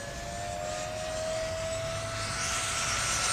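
An RC jet plane, an F-16 model, whining on the runway with a steady high-pitched turbine-like tone that brightens and swells toward the end, heard alone without talk.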